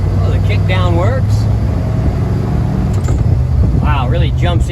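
A 1974 Ford Bronco's engine rumbles steadily on a test drive, with a low continuous drone and rising revs as the transmission shifts, while someone talks over it throughout.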